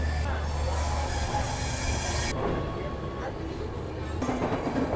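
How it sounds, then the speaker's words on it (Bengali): The 13147 Uttarbanga Express passenger train pulls out of platform 11 at Kolkata with a continuous heavy rumble of rolling wheels, broad hiss and clatter, loud and close throughout. "11 নম্বর প্ল্যাটফর্ম ছেড়ে যাচ্ছে উত্তরবঙ্গ এক্সপ্রেস।"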